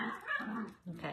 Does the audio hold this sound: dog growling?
yes